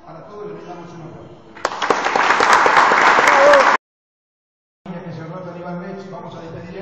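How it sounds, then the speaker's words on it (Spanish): A crowd at a Rotary end-of-year party breaks into loud applause for a couple of seconds, rising over someone speaking into a microphone. The sound then cuts to silence before his speech resumes without clapping. "Para todos les damos un aplauso."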